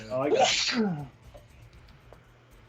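A single sharp sneeze bursts out loudly during a live coaster-building stream session, with a person speaking over it and then fading into quiet room noise.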